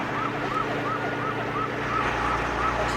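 A police car siren wails in a steady repeating up-and-down pattern, fairly loud over a constant low vehicle rumble, with no talk.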